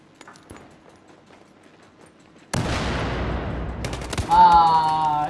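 Heavy gunfire from a powerful weapon in a video game, a sudden loud blast erupting after near silence and followed by sustained rumbling shots and ringing tones, with no talk.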